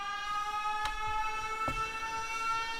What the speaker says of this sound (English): that sound you're hearing is a siren